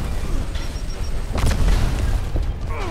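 A grenade explodes in Gears of War, a heavy booming blast that swells midway over a rumbling battle background, loud and close with no talk.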